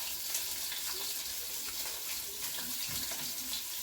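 A kitchen water tap runs steadily while hands are washed, a continuous close hiss of flowing water with small splashy fluctuations and no talking.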